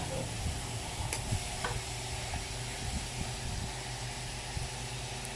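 Small chopped pieces of kalabasa pumpkin sizzle in a pan for lumpiang gulay, a steady frying hiss close by with scattered scrapes and clicks from stirring.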